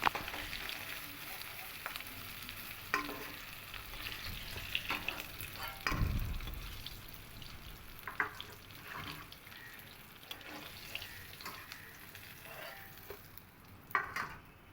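Pieces of katla fish fry in oil in a pan, giving a soft, continuous crackling sizzle with scattered pops and clinks throughout, fairly quiet and close, with no talking.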